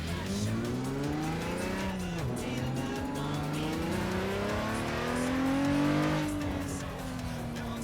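Simulated car engine in Assetto Corsa racing game, steadily revving up and down through gear shifts with rising and falling pitch sweeps, loud and continuous with faint tire squeal, no talking.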